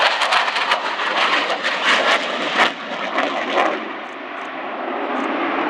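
A Polish Air Force MiG-29 Fulcrum fighter makes a knife-edge display pass at an airshow, its loud, steady jet roar filling the air with a broad rushing tone that dips slightly midway and continues strongly.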